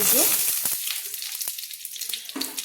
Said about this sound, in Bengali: এবার আমি দিয়ে দিচ্ছি কালো জিরে, 1 চামচ কালো জিরে দিয়ে দিলাম দেখুন গোটা শুকনো লঙ্কা